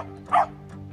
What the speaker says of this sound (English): The dogs love her, and they can't wait to go inside to see her.